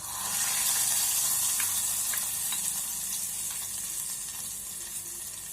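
Fried ingredients poured into payasam hit with a steady, bright sizzle that swells and then slowly fades, near and continuous, with no talk over it.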